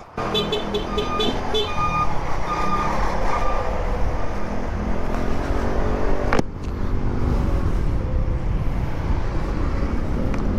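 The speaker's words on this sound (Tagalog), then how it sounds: "Laki-laki kasi ng truck, ba't dyan pumapasok?" A large truck rumbles steadily nearby on a roadway, with a train of repeated high beeps early on like a reversing alarm, then a sharp clunk midway before the engine noise carries on.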